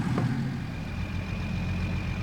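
Tractor engine in a farming game settles into a steady low idling rumble right after a brief start-up, loud and close with no voices over it.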